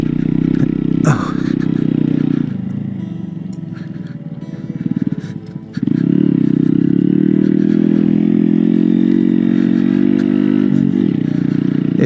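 Honda Grom motorcycle ridden off road, its small engine droning loudly and steadily close by, with a brief dip and rough patch midway before the engine note returns strong and sustained.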